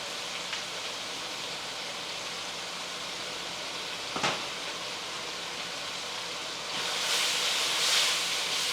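Tomato paste sautéing in a pan for beef caldereta after onions turn translucent, a steady soft hiss of sizzling oil with a brief clink midway and the sizzle swelling louder near the end.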